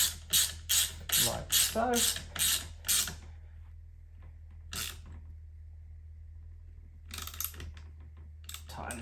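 A bolt is fitted and ratcheted tight on a VR Commodore seat rail being installed into a VK Commodore, producing a quick run of close, sharp ratchet clicks, then quiet, then a few more clicks, with a brief spoken word near the end.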